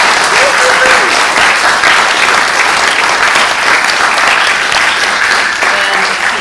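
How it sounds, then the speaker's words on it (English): A theater audience at the 2014 PlayPride LGBT Festival gives loud, sustained applause to the festival's playwrights and actors. The dense clapping stays steady throughout, with crowd voices mixed in. "So let's give them a round of applause."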